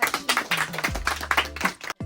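A film crew clapping after a shoot day, a short burst of close hand claps with a brief low tone in the middle, ending abruptly.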